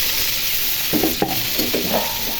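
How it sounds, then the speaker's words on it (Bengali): Onions dropping into hot oil in a pan while cooking a snakehead fish curry, a steady close sizzle with a few bursts of stirring and scraping, no voices. "তেল গরম হয়ে গেছে, এখন পেঁয়াজ ছেড়ে দিব।"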